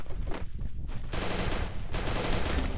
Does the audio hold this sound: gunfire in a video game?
yes